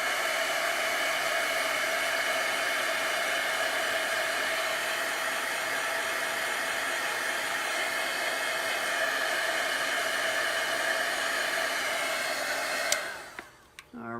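A hair-dryer-style heat tool blows steadily for about thirteen seconds to dry chalk paste designs, a loud, even rushing whoosh close by, then cuts off with a brief clatter of handling.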